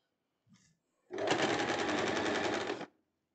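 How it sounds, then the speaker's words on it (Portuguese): Sewing machine topstitching bias binding on a dress, a close, steady run of rapid stitching for about two seconds after a brief faint sound. "Eu vou passar aqui agora um pesponto aqui em cima"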